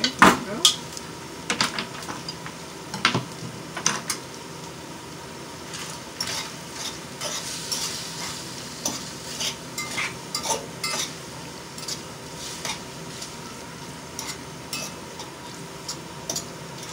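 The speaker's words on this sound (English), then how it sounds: "Put all my onions in here." Onions fry in a pan, with sharp scraping and clattering stirring strokes over a low steady sizzle, busiest at the start and recurring in scattered bursts through the rest.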